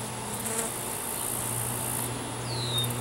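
A dense, steady buzz of many honey bees swarming nearby during a bee removal, with a single insect droning past near the end; no voices.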